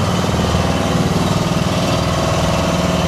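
A pumpboat engine drones loudly and continuously at close range, a steady rumbling chug with rapid even pulsing and no breaks, out on the water near a beach resort.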